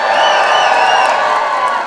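A studio audience crowd cheers and whoops continuously at a steady, loud level, with no gaps.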